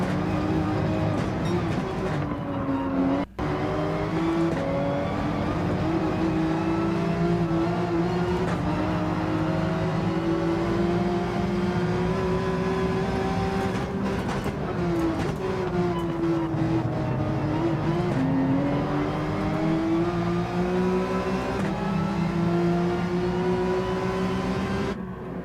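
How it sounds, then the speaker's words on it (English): Race car engine in Gran Turismo 7 revs steadily and loud, its pitch climbing through each gear then dropping sharply at several upshifts, with one abrupt cut early on and continuous tone throughout, no talk. "Car sounds really good right before I shift."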